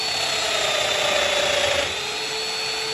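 A Festool Domino joiner plunges into a workpiece to cut a slot, its motor whining loudly and steadily with a gritty cutting rasp, then easing to a lighter hum as the cutter retracts while a shop vacuum runs.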